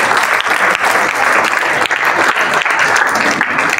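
An audience breaks into loud, dense applause that holds steady for the whole stretch, with a faint crowd murmur underneath.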